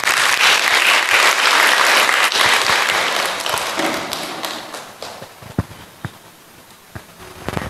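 An audience at a Chinese studies camp gathering applauds to welcome a doctor to the stage; loud, dense clapping fills the first half, then thins out and fades, leaving scattered taps and a few soft thuds.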